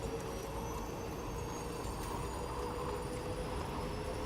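A monorail running in the video game Death Stranding 2 gives a steady, faint mechanical rumble and hum, with a thin high whine held throughout and no break in the drone.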